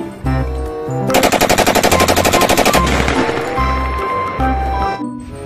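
Rapid bursts of M4 automatic rifle fire in a video game, a sustained rattling volley in the middle between single loud shots, with game music thumping underneath.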